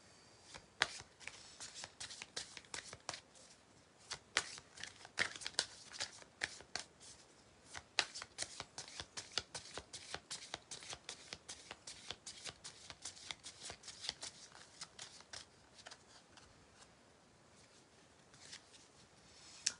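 A deck of healing oracle cards being shuffled close by, with quiet, irregular riffling and flicking snaps repeating for about twenty seconds and no talk over it.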